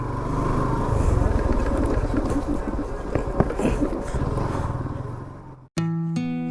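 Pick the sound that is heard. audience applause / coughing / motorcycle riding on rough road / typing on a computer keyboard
motorcycle riding on rough road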